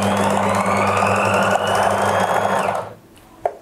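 A sewing machine running a steady fast stitch on a coat collar, a close, loud continuous whirring hum for about three seconds before stopping abruptly, followed by a single small click.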